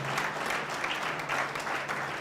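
Congregation at a church service claps for the Lord, steady, moderately quiet applause with a rhythmic pulse throughout.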